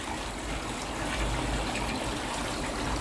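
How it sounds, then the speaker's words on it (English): Water pours steadily from a garden pond pump outlet, a close, continuous splashing trickle with no breaks. "A little bit of a flow coming at the bottom, just what I wanted."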